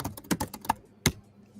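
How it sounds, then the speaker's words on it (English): Loud, hard keystrokes on a computer keyboard, a quick burst of sharp clacks followed by a pause and one final heavy strike, close and alone. "I'm just typing aggressively."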